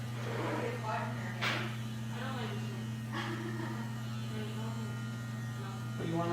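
Electric clippers hum steadily and loudly while shaving a stage 3 matted dog, a constant close buzz under a person talking throughout.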